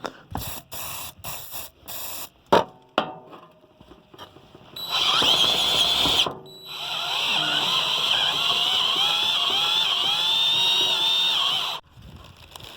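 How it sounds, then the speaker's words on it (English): A power drill whirs steadily for several seconds, pauses briefly, then bores a hole in a trailer in a longer continuous whine, after a few sharp clicks and knocks. "We're going to go ahead and drill the hole in the trailer."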